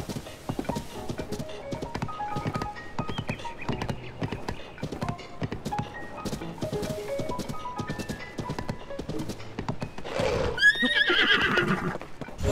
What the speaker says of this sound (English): Stop neighing at me.